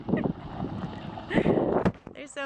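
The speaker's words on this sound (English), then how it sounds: "Sorry if it's windy." Gusty wind buffets the microphone in low, rumbling bursts while people talk faintly underneath, partway up a mountain on a quail hunt.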